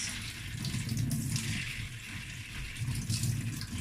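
Onions being washed under running water from a tap for a mackerel fish stew, a steady close splashing wash that continues throughout with slight surges.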